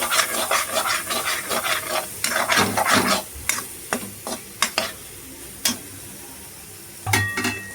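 Vegetables and soaked tamarind fry in a pan for garlic pepper kuzhambu, a steady close sizzle broken by repeated scraping stirs and spoon knocks, louder in the first half, with no talking.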